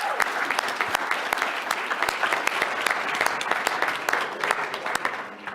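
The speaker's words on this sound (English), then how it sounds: "give Hannah another round of applause for going first" Audience applauding a contestant at a pitch contest, a dense burst of many clapping hands with sharp individual claps standing out, loud and sustained before tapering off at the end.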